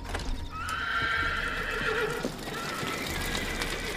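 Horses whinny loudly near a barn while hooves clop irregularly on the ground, with a long neigh standing out over the steady stamping.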